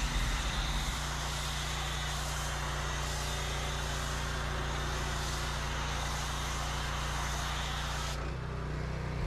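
Max Shine Max 5000 pressure washer, rated 5000 PSI and 10.5 gallons per minute, running with an MTM foam cannon in a loud continuous motorized roar and hiss that shifts slightly near the end.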